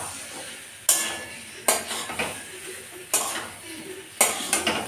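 Shrimp and potato curry is stirred in a cooking pot, with five sharp metallic clanks of a utensil against the pot spaced a second or so apart over a light sizzle.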